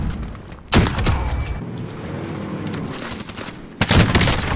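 Sniper rifle fire in the video game Call of Duty Warzone, two loud booming shots a few seconds apart over a steady background rumble.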